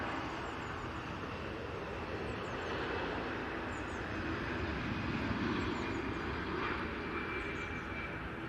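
Aer Lingus airliner at Manchester Airport, a steady broadband jet roar held at moderate, fairly distant level throughout, with no talk over it.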